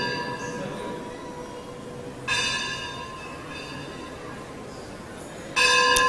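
A temple bell rings at ISKCON Vrindavan, struck twice several seconds apart, each bright metallic strike ringing out and slowly decaying over a steady low background hum.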